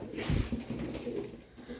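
Pigeons coo, likely Turkish pakize and şımarık fancy breeds, with a low, close coo near the start and softer murmuring cooing after it.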